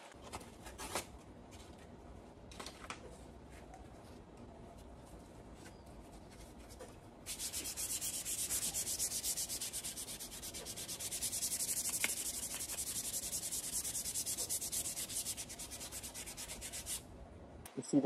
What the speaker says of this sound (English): Now it's time to sand with the 400 grit.